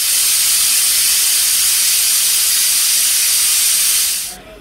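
A pressure cooker whistle vents steam while rajma cooks on the stove, giving one loud, steady hiss that holds for about four seconds and then cuts off abruptly, with no voices.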